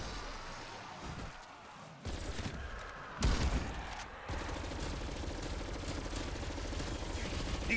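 FARA-83 assault rifle in Black Ops Cold War Zombies, sustained dense automatic fire running almost continuously, with a few abrupt jumps in intensity and a heavy thump midway, loud and busy throughout.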